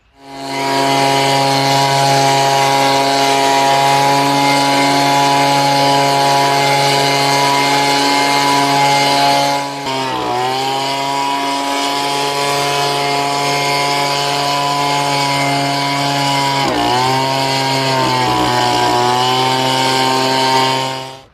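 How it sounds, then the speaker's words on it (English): A leaf blower runs steadily while clearing front and back sidewalks, its engine droning loud and close with a strong tonal whine that dips briefly twice as the throttle changes. "I'm gonna run over the front and back sidewalks now with the leaf blower"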